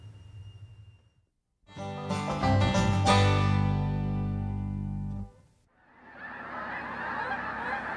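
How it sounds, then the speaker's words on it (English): A Canada goose gander gives a loud, drawn-out honking call close by, after a brief quiet, followed by a rush of wind-like noise. "listen to that old gander, will you? That is the authentic sound of December"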